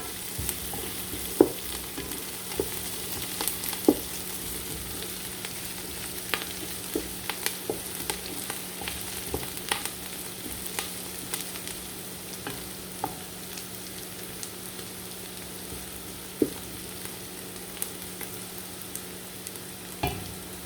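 Onion frying in a pan for chicken pasta gives a constant close sizzle, with scattered small pops and faint stirring scrapes throughout.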